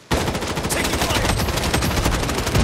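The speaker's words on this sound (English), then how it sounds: "Taking fire." Rapid, sustained machine-gun fire in Project: Bloodstrike erupts suddenly and keeps hammering in a fast, even stream of loud, close shots.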